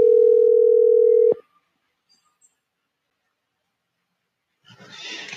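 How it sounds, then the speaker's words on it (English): A steady telephone dial tone drones for just over a second while placing a call, then cuts off into silence before a faint voice begins. "I'm trying to get Michael on the phone"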